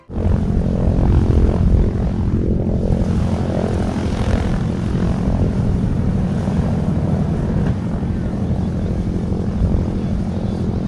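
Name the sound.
B-29 bomber radial engines running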